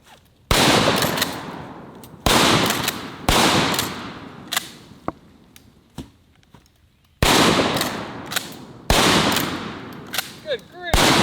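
Shots from a pump-action trench shotgun fired by slamfire, five loud, close blasts in quick succession with gaps between, each decaying into reverberation, and sharp clacks of the pump action in between.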